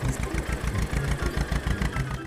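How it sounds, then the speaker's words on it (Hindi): Tractor engines idle together in a low, steady, throbbing rumble, moderately loud and unbroken for the whole stretch, with no voices over it. "ट्रैक्टर्स को मंगवाया।"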